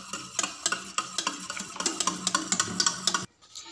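Milk powder being stirred into tea, a spoon scraping and clinking in quick, irregular strokes close up, then a brief pause near the end, with no talk.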